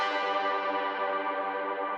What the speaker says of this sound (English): On top of that, we have a little atmosphere hit.